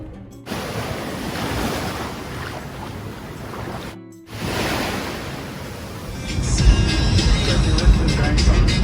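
Steady surf and waves at Two Dollar Beach in Pago Pago, American Samoa, a loud continuous wash with wind rumble on the microphone, briefly cut twice.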